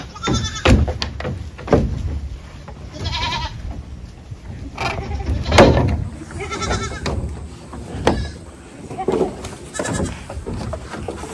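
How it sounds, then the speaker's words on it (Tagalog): Several goats bleat at a farm, repeated cries near and far with thumps and brief talk between them. "mga ilang kambing yan?"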